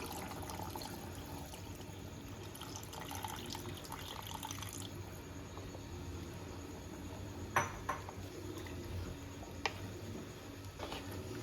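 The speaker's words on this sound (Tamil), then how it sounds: "நம்ம தேங்காய் பால் தான் ஊற்றணும், 1 டம்ளர் ஊற்றணும்." Coconut milk poured from a tumbler into a cooking pot for Kerala-style thengai paal sadam, a soft liquid stream that stops partway, then quiet kitchen ambience with a few light clinks of utensils, close and faint.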